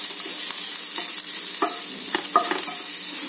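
Spices sautéing for a Tamil-style bread chilli, a steady low sizzle with a few light spatula taps and scrapes against the pan, close and continuous, with no one talking.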